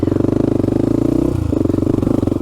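ATV engine and exhaust while riding through woods, a steady, close, pulsing motor drone with a slight dip in pitch midway, no talking over it.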